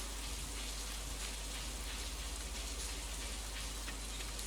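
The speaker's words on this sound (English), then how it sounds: "Ah, the rain. Beautiful rain." Rain falls steadily in Stardew Valley, a dense, even hiss of drops on surfaces, loud and unbroken throughout with no voices.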